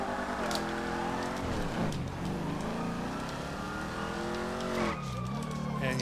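A stolen car driven in GTA 5 Online, a loud continuous engine that revs and shifts pitch as it accelerates, with brief tire squeals, steady and close throughout, with light speech over it.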